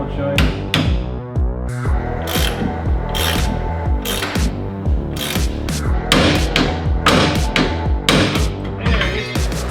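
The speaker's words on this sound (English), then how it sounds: "Alright, let's start whacking it. I hate ball joints." Sharp metallic hammer blows strike a ball joint on a Holden Torana, coming in irregular bursts of close, ringing impacts, some rapid and clustered, others spaced apart.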